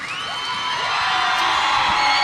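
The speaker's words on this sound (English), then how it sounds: "You can hear Monument Valley's crowd coming to life to give the Mustangs their introduction." At a boys' high school basketball game, the Monument Valley crowd cheers to introduce the Mustangs. Loud, sustained cheering, whooping and yelling from a packed gym swells steadily throughout.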